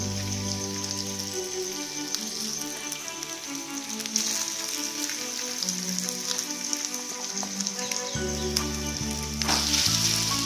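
Mashed potatoes for a spicy aloo kachori filling sizzle in hot oil in a pan, giving a steady, close crackling fry that runs throughout with no talking.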